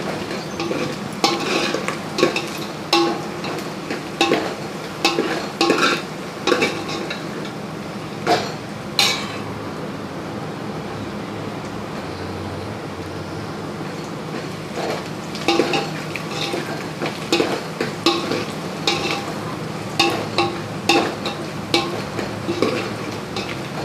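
Food sautéing in a pan until golden, a steady sizzle under repeated scraping and clinking stirring strokes from a utensil against the pan, close and continuous with no talking.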